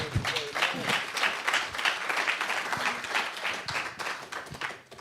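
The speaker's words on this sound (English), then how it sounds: "Let's give them a welcome round of applause." Audience applause fills a hall at a business of sports and entertainment conference, a dense, steady wash of many hands clapping close by for about five seconds, with a faint murmur of voices underneath.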